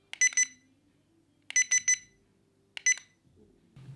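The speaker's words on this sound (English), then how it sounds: "each speed mode is indicated by a series of beeps." Remote control of a JJRC H66 FPV drone chirps out short groups of bright beeps, first a cluster of three, then three more, then a single one, each burst crisp and close against near-silence.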